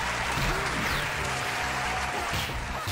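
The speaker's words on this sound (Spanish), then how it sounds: "le vamos a poner los aplausos, ¿cómo no?" A burst of applause plays steadily at moderate volume for a few seconds as a sound effect during a King of Fighters '95 tournament match stream.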